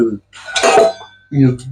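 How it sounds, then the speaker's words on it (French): Dull, heavy thumps from a saucepan bottom pounding meat flat under plastic film for mortadella cordon bleu, a cluster of close, loud blows in the first second followed by a brief voiced sound. "Allez, je martèle, je bûcheronne, j'aplatis et on continue."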